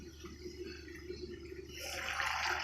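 A potato, capsicum and paneer curry simmers under a lid, giving a steady low bubbling hiss that swells louder and brighter toward the end.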